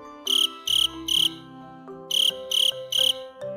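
Cricket chirping in close, loud bursts: two groups of three rapid pulsed trills, separated by a short pause, over a soft sustained musical backdrop.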